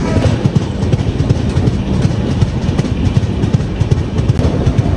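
The Hussain Sagar Express running on the Hyderabad route, heard from on board: loud, steady rumble with a rhythmic clickety-clack of wheels over rail joints throughout, no voices.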